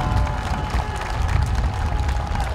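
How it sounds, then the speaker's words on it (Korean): An audience claps for a local council candidate at the opening of his campaign office, a dense, steady round of applause from a crowd indoors, sustained at a fairly loud level from start to finish. "여러분 큰 박수 저를 위해서 한번 좀 쳐주십시오."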